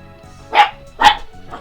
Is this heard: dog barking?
yes